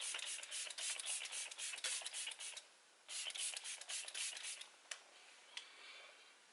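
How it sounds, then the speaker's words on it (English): Kat Von D setting spray misted onto a face in pump bursts, several short hissing sprays in a quick irregular series, close and moderately loud, ending with a couple of isolated spritzes and no talk. "I'm going to use Kat Von D setting spray to finish this look off."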